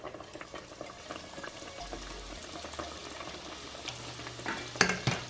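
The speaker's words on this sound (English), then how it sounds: "So we're gonna just fry all of them." Chinese buffet-style sugar donuts fry in hot oil with a steady low sizzle and bubbling, along with occasional stirring and clinks of a utensil against the pot, growing louder near the end.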